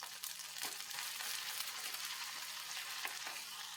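Chopped ginger, garlic and curry leaves frying in a hot pan, a loud continuous close sizzle and crackle with a couple of soft stirring scrapes.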